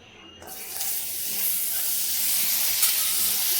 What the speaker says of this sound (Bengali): এখন আমি এর মধ্যে মাখন দিয়ে দেবো